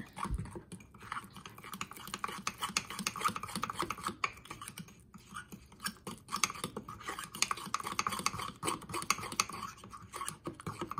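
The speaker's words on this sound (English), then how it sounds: "And stir." A spoon stirs mug cake batter in quick, continuous clicking and scraping strokes against the mug, faint and close.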